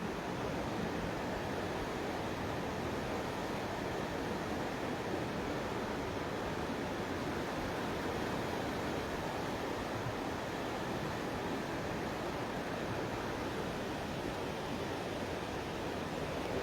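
Water released from the Gurushinagi bridge-cum-barrage pours into the Bhima river, about 35,000 cusecs, heard as a steady, even, fairly faint roar of rushing water with no voices.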